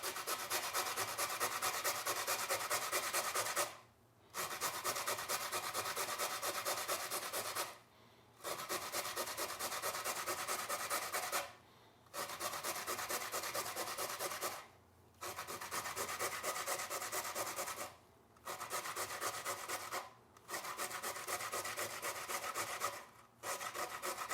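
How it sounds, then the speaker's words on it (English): Carrots rubbed against a hand grater for a beet, carrot and dandelion salad, a steady close scraping in long continuous strokes broken by brief pauses, with no talk. "we can grate up our carrots"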